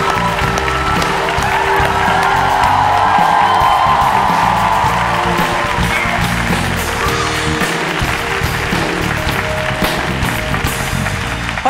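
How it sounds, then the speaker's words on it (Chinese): A talk-show studio audience applauds to welcome film director Wei Te-sheng, a loud, continuous wash of clapping with some cheering that holds steady for the whole stretch. "各位观众，我们来掌声欢迎知名的国片大导演魏德胜。"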